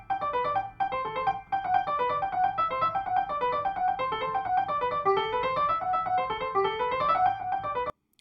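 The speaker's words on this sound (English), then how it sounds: "I downloaded this sound, which is actually just someone playing a Bach excerpt." Piano playing a Bach excerpt, a sampled recording: a steady stream of quick melodic notes with a flowing, even rhythm, moderately loud and alone, running throughout before stopping abruptly at the end.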